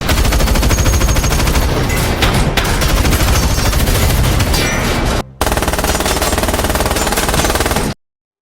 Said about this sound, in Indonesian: Dan Edge kembali baku tembak dengan mereka.